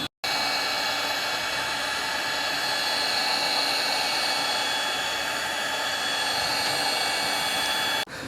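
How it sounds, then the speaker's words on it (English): A heat gun warms old performance-car stickers on a car's hood, blowing a steady, close, loud airy roar that holds unbroken for about eight seconds before cutting off. "we need a heat gun and I'm literally just going to heat this up"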